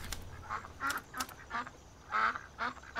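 Ducks quack repeatedly in a loose series of nasal, moderately loud calls, with no talking.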